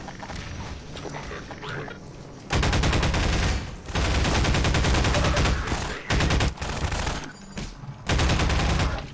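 Loud gunfire from the Half-Life 2 video game, rapid automatic bursts that start and stop several times, dense and close, with brief quieter gaps between volleys.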